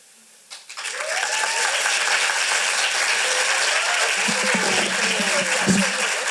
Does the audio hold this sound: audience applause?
yes